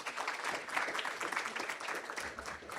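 Steady applause from a crowd, a dense wash of clapping that holds for a few seconds at moderate volume with no speech over it.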